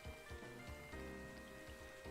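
Rain falls steadily as a faint, continuous patter, mixed with a dense background of game music and hum, with no break throughout.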